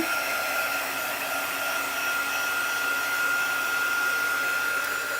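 A hair dryer blows steadily over a freshly applied chalk paste layer on a Chalk Couture craft project, a loud, even, continuous whir with no break and no talking.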